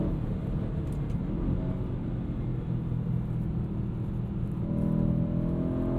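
An Aston Martin DBX 707 SUV cruises along a road, its engine a steady low rumble heard from inside the cabin with constant road noise and no talk.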